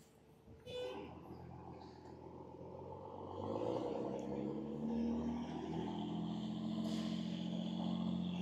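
Truck engine close by, idling low and then accelerating into a steady, louder rising drone as the driver puts it in gear, with onlookers calling out over it.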